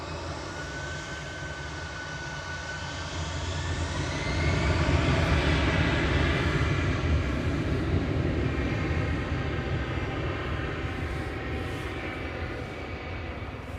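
Aer Lingus airliner rolling for takeoff at Manchester Airport, bound for Dublin: a broad jet engine roar that swells over the first few seconds and then holds steady with a faint whine, heard from a distance with no talk.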